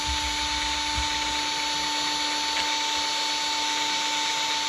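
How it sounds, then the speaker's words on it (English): An electric drill spins a polishing pad with putty against a nitro RC car exhaust, giving a steady high-pitched whine with a constant tone and no pauses, close and alone. "putting a little bit of pressure on it while you hit the trigger on your drill"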